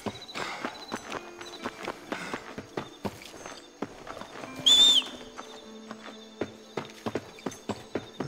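Horse hooves clip-clop in steady rhythmic beats during a horse race in the video game Red Dead Redemption, close and clear, with one brief neigh partway through.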